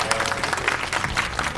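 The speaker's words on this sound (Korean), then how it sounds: "여러분 박수로 맞이해 주십시오" A TV studio audience claps to welcome a guest, a brief burst of steady applause.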